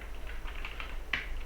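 A computer keyboard is typed on while Python coroutine code is entered, a few quiet scattered keystrokes with one sharper click near the end.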